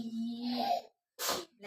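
A single short sneeze bursts out after a brief pause, preceded by a voice.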